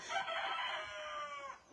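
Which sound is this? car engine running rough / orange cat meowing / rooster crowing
rooster crowing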